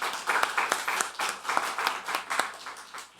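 A church congregation gives a short burst of encouraging applause, scattered hand claps rising and falling for a few seconds in a reverberant hall.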